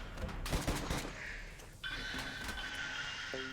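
Defensive turrets fire in a Rimworld colony battle, a burst of dense crackling gunfire near the start, then a steady mechanical hum with faint clicks, no speech.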